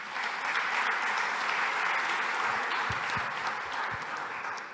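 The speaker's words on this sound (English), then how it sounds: "please have a round of applause for our panel members here" An audience at a technology conference applauds its panel members with steady, full clapping that fills the room throughout, with no one speaking over it.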